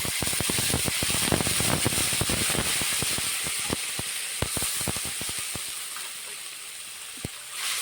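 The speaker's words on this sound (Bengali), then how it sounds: "এবার দিয়ে দেবো মশলা ধোয়া জল" Spice-washing water splashes into a hot pan of bata fish curry, setting off loud steamy hissing and sizzling broken by sharp crackles and pops that gradually ease off, with no one speaking.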